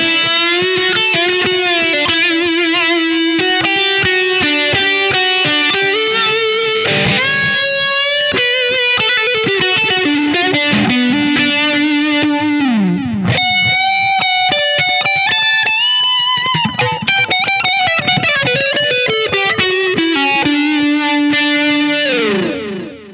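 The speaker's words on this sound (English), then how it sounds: "And then snapshot 3, I put the big muff pie on," Electric guitar played through a Big Muff Pi fuzz on a Line 6 HX Stomp, a thick sustained distorted tone with a melodic lead line over held notes, loud and continuous for the whole stretch, no talking.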